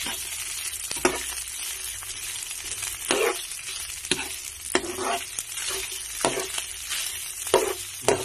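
Garlic and onion stir-fried in a pan until browned, a steady low sizzle broken every second or so by sharp scraping stirs of the spatula, close up with no talking.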